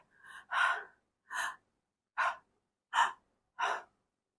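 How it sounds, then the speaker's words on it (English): A series of five soft, breathy gasps, evenly spaced and close, with a quieter intake before the first; no talking. "All you have to do is just let out a gasp"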